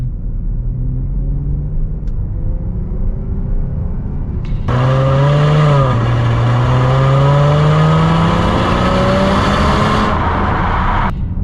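A 2020 Chrysler 300 S Alloy Edition with a 3.6-liter V6 idles with a low hum, then the engine swells into a loud, rising acceleration drone heard from inside, climbing through gears for several seconds before settling.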